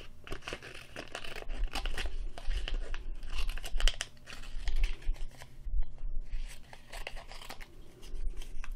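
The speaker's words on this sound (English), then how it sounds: "So I'm going to cut out the number 5." Scissors snip through a leftover scrap of paper to cut out a number, with repeated short cuts and crinkling paper handling, close and fairly loud with no talking.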